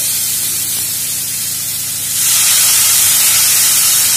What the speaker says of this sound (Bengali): জল দিয়ে নেবে।